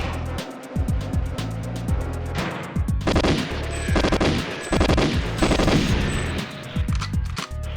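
Gun turrets fire rapid bursts of automatic gunfire in the GoldenEye 007 game, loud and dense, with shots overlapping in repeated volleys across the whole stretch and an engine-like drone underneath, and no talking.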